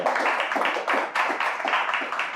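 A small audience claps during a talk about local small businesses and the economy in Bulungan, a steady patter of hands in irregular bursts at moderate loudness, with no speech over it.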